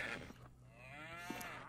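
A cow moos in the video game Survivalcraft 2 with one drawn-out, rising and falling bellow. The call is close and fairly loud, heard alone over a steady low game background, and a short click or thump follows near the end.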